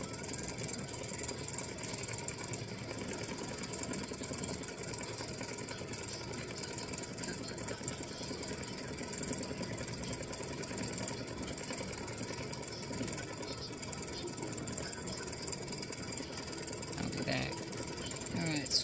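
Embroidery machine stitching a daisy and hummingbird edge-to-edge design, a steady dense mechanical chatter of rapid needle strokes running continuously at moderate volume, with a voice speaking over it.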